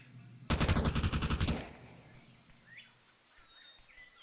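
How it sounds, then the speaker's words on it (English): Desert Eagle pistol fire in a video game during an esports tournament match: a sharp, loud burst of about ten rapid shots lasting roughly a second, then quiet game ambience with faint chirps. "it's the Deagle that they're dealing with"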